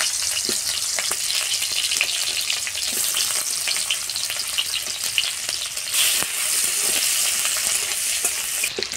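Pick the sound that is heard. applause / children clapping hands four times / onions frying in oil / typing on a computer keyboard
onions frying in oil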